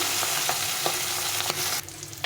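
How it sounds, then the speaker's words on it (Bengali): Pabda fish frying in oil, a bright, dense sizzle with rhythmic spatula scrapes, dropping suddenly quieter near the end, heard up close with no speech. "আমি একটু এরকম লাল লাল করে ভেজে নিচ্ছি"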